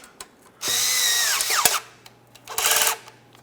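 A power tool tightens the oil pan mounting nuts on a 1994-1997 Honda Accord 2.2L I4 engine, with one long whirring burst and then a shorter one, close and loud, with no talk.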